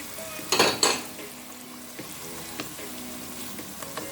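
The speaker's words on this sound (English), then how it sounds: "next I'm adding some onions" Chopped onions hit a hot pot for Jamaican sweet and sour chicken curry, setting off a loud sizzle that settles into steady frying, with scattered utensil clinks and stirring scrapes.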